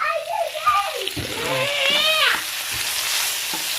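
Mung beans and vegetables fry in a pan while being stirred, giving a scraping, sizzling wash with a splashy edge; someone talks over the first part before the frying noise takes over.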